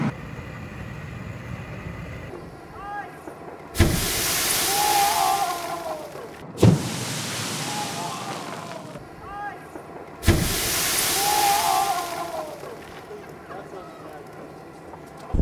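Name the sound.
burning oil and water fat explosion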